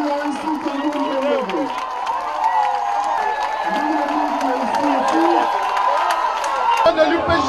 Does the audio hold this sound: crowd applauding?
yes